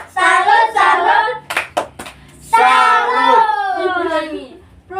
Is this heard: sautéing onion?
no